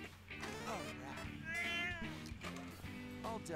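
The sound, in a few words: pet cat meowing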